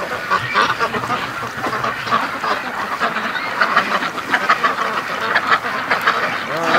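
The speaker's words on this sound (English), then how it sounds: "That's the ducks coming home." Ducks quacking in a busy, overlapping chorus as the flock comes home, the calls close and steady throughout with a few honking notes mixed in.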